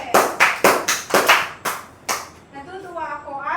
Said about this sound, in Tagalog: bigyan natin ng 3 palakpak si Lawrence